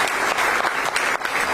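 Crowd applause, dense and steady clapping from many people throughout, fairly loud and close.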